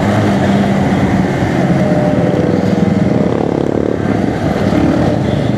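A loud motorcycle engine runs throughout with a steady, dense drone, recorded close during a Sunday group ride in Darbhanga.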